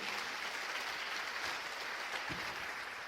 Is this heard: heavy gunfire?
no